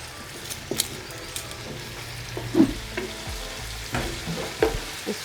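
Chicken frying with garlic and ginger in a pan, a steady sizzle broken by occasional stirring scrapes and small pops, close and alone with no talk.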